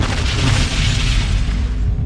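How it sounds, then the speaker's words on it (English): A rocket launcher blast from a sound effect, a loud, continuous, deep booming roar that fills the whole stretch with rumbling explosion noise and no voices. "He fired at the orphanage, causing great explosions, blowing up all inside."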